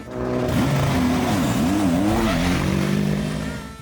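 A loud race car engine roars and its pitch swoops up and down as it revs through gears on the track at the 2022 WEC Prologue, with the whole field on track together.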